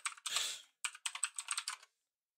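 Someone types on a new computer keyboard in quick bursts of crisp, clacky keystrokes, a short pause splitting the run, close and fairly faint with no talking.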